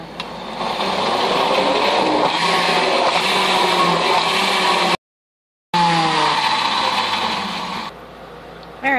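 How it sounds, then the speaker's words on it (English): A blender whirs loudly as it purees kale, lemon and cucumber into a vegetable shake. The motor grinds steadily for about five seconds, cuts out briefly, then starts up again and settles before stopping. "But however you know to blend your vegetables, do it and get it done."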